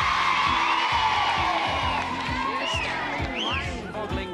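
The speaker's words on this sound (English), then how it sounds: "Give her a cheer." Studio audience on a music television show cheering and whooping for a guest, a dense continuous crowd roar with high shouts on top, steady and loud throughout.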